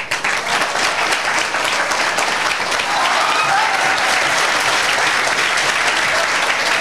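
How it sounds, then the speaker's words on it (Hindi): Children in a school gathering clap in a sustained, energetic burst, a dense crackle of many small hands that stays loud and steady throughout, with no speech over it. "तुम लोग बार बार ताली काहे बजा रहे हो"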